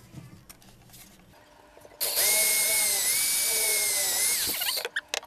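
Quiet handling noises, then a power drill whirs loudly for a few seconds, its pitch dipping slightly under load before stopping abruptly.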